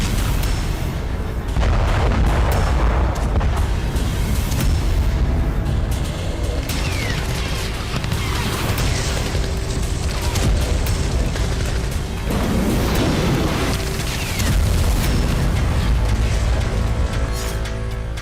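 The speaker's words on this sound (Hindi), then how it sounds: "रूसी आर्टिलरी कोस्तियांतिनिवका के अलग अलग मोर्चों पर बारूद बरसा रही है" Russian artillery fire and explosions during urban fighting in Kostiantynivka, Ukraine: loud, dense, repeated heavy booms and blasts roll over one another with no pause and no talk.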